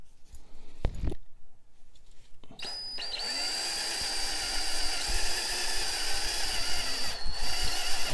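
A worn-battery cordless drill bores into a wax-filled part from a 1934 Philco Model 66B radio: a thump and brief clatter, then the motor whines up and runs steadily with a bit grinding into the gummy material, close and loud.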